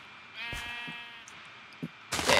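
A single clear sheep bleat in Minecraft, a wavering, nasal call at moderate volume, followed by a few soft game sounds and a louder burst of noise at the end.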